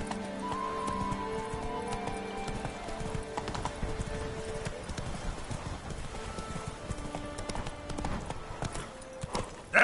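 Hooves of the horse Roach clip-clop steadily through The Witcher 3, a continuous rhythmic trot under game music, with a neigh and other game sounds layered in.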